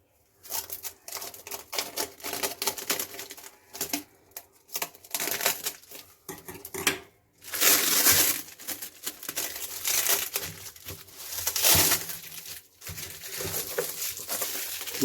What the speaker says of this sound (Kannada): ಮೊದಲೇ ಬುಕ್ಕು ರ್ಯಾಪನ್ನು ಕಟ್ ಮಾಡ್ತೀನಿ